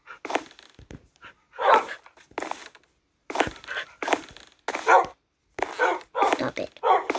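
A small dog barks in short, high bursts with gaps between them, fairly close and loud, with some panting and shuffling in the pauses.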